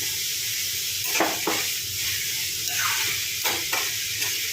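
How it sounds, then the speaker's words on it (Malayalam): Onions, green chili, ginger and garlic sauté in a pan with a steady close sizzle, broken by several sharp scraping stirs of a spoon across the pan. "നന്നായിട്ടൊന്ന് വഴന്നുണ്ട് ഉള്ളിയും പച്ചമുളകും ഇഞ്ചിയും വെളുത്തുള്ളി ഒക്കെ ഒന്ന് വഴന്നിട്ടുണ്ട്"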